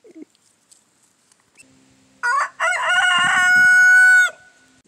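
After a few faint clucks, a nearby rooster lets out one loud, drawn-out crow lasting about two seconds among backyard chickens at an off-grid tiny home.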